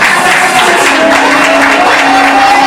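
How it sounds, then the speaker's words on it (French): Crowd applause for a partner at a large diaspora rally in Paris, a loud, dense, continuous roar of clapping with a sustained tone running beneath, close and heavily saturated. "j'aimerais que vous applaudissez"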